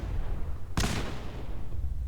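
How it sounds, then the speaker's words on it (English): One sharp explosion in the video game Fallout 4 bursts out of a low background rumble and then fades into a short, rumbling tail. "That was a lot of explosions."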